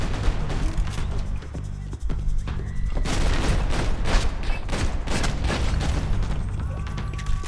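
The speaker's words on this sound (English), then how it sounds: "I think that gunfire was actually real guns!" Intense gunfire in the video game Max Payne 3, with rapid volleys of shots and booming impacts layered over a low droning score, loud and sustained throughout and with no talking.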